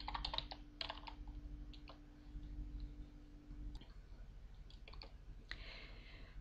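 Typing a command on a computer keyboard to play a text-based online game: quick clusters of close, crisp key clicks separated by short pauses, over a low room hum.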